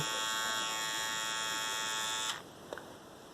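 A Belita BHT-503 electric hair trimmer cuts hair with a steady, close, high-pitched buzz that cuts off sharply partway through, followed by a couple of faint clicks.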